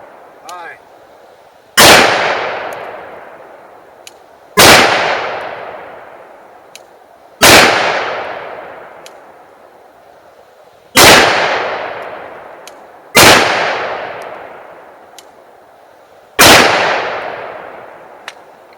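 Glock 20 pistol firing 9x25 Dillon rounds outdoors at a range, six loud, sharp shots spaced about three seconds apart, each with a crack and a decaying echo tail.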